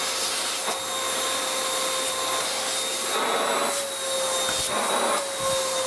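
A Beaumark BM222 V600 TinyTurbo handheld vacuum cleaner runs with a steady, loud whine and airy rush, the pitch dipping slightly as it moves over surfaces.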